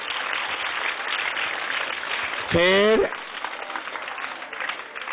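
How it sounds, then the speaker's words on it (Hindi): Dense, steady applause from a large audience at a gathering at Acharya Kulam in Haridwar, continuous throughout with a brief voice cutting in midway. "इनका जोरदार तालियों से अभिनंदन करो।"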